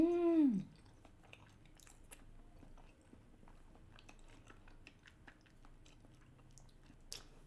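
Chewing salmon sushi during a mukbang, soft close mouth sounds and faint wet clicks after a short hummed vocal at the start, quiet and intermittent.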